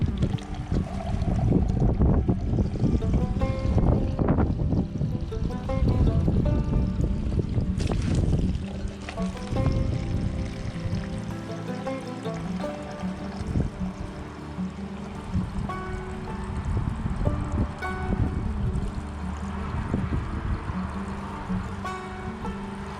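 Water runs from a mixed hot-and-cold tap into a cup, a steady broadband rush that holds continuously for the whole stretch, loud and close, with no talking over it.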